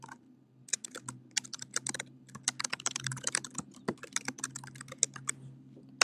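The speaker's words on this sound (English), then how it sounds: "If I wanted to send a message to Megan, I can just double click on her name and type in a message" Quick, uneven keystrokes on a computer keyboard as a message is typed, dozens of close, crisp clicks in rapid bursts over a low hum, with no talking.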